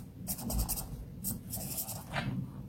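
Pen writing out a worked example by hand for a steel-weight calculation, close and distinct: several bursts of scratchy scribbling strokes with short pauses between them, no voices.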